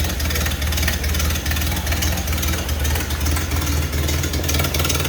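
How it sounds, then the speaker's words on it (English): A 1931 Ford Model A coupe engine idles steadily and up close, a continuous low rumble with an even rhythm and no talk over it. "Fired up, idling right along."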